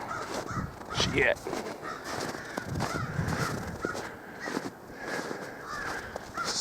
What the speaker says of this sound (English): I don't like noisy ass birds